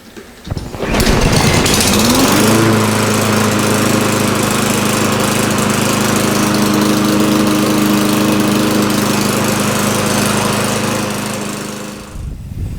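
A rebuilt Briggs & Stratton lawn mower engine starts after a brief pull and settles into a loud, steady, close-up running drone that holds for about ten seconds before cutting off.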